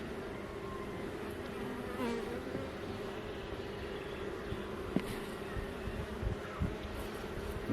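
Honeybees buzz around an open hive on a hot day, a soft, dense, continuous hum of many insects with occasional louder passes close by, no talking.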